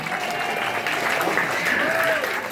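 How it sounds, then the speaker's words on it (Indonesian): Applause from a crowd praising a tall Pelung rooster, a steady dense wash of clapping with a faint whistle-like tone on top, moderately loud throughout. "Tepuk tangan dong buat ayamnya."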